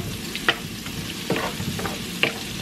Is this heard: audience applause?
no